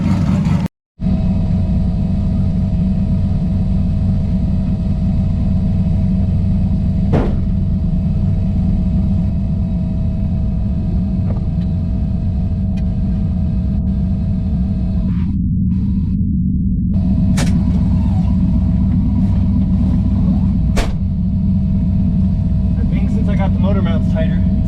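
A turbocharged Ford Fairmont with freshly tightened motor mounts drives around the block, its engine droning as a steady, loud low rumble heard from inside the car for the whole stretch, with only slight changes as it moves.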